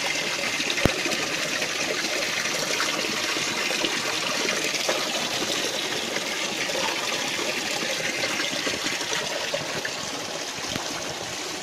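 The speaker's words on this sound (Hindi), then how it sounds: "आपको बावड़ी का असल में जो पानी निकल रहा है पहाड़ से उसको दिखाएंगे।" Natural spring water from the mountain pours steadily into a stepwell, a continuous bright rushing trickle that stays at an even, fairly loud level and is heard alone, with no voices, apart from one brief knock near the start.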